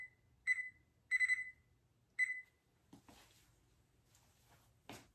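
A kitchen timer beeps in short high bursts, single and triple, as it is set while bread dough rises, followed by faint rustling and handling sounds in a quiet kitchen.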